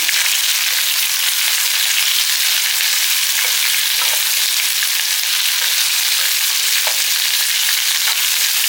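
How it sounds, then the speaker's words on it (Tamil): Chopped ash gourd sautés in a hot pan for chutney, giving a loud, continuous sizzle with faint scraping from stirring throughout. "காய் நல்லா வதக்கிடுங்க"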